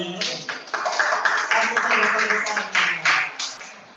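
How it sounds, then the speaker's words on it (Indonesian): A room of people, students or a class, clap their hands for a few seconds, a busy patter of many claps at close range with voices mixed in underneath. "Tepuk tangan dulu"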